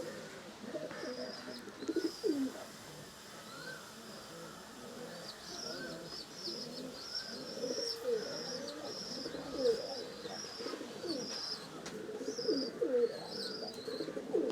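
Racing pigeons coo in a loft, a soft, continuous murmur of low throaty calls from several birds. Faint higher chirps sit over a quiet background.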